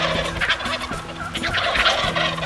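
Wild turkeys gobble repeatedly on the roost at dawn during a September hunt, loud rattling calls overlapping one another with constant busy background noise.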